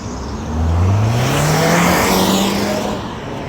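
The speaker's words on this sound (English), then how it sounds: "You got the cars making a lot of noise." A car on a street passes close by while someone walks along the roadside, its engine tone rising then falling in a loud swell that fades after about three seconds.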